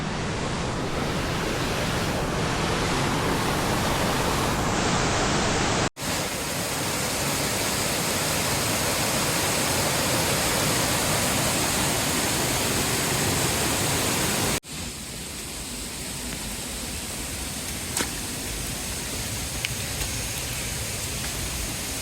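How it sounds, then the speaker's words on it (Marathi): A stream and waterfall on a hiking trail near Ghangad and Sudhagad make a loud, unbroken rush of water that fills the whole stretch. There is no talking, and the sound drops slightly partway through. "हा ओढा आहे मध्ये आपल्याला मध्ये क्रॉस करायचं आहे उजव्या साईडला जिथं वॉटरफॉल आहे"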